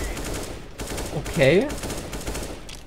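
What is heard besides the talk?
AK rifle gunshots through smoke in video game CS:GO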